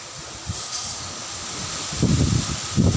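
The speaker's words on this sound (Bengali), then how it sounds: "আজকে প্রচুর বাতাস দেখুন" Strong wind sweeps through fruit trees outdoors during stormy weather, making a steady rushing hiss of leaves with louder gusts swelling toward the end.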